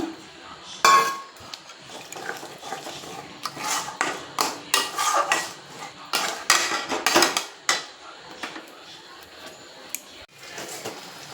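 Spices and salt are stirred in a pan for a paneer curry, giving a series of close metallic scrapes and clinks of a spoon against the pan in an uneven rhythm, fairly faint.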